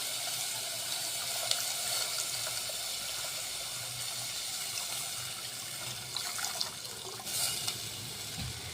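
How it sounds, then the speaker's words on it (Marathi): Water pours steadily and softly into a pot of spicy sev bhaji gravy, a continuous low trickle lasting throughout, fairly quiet and without speech. "ज्या पद्धतीचं लागते त्या पद्धतीचं आपण पाणी टाकायचं फॅमिलीनुसार"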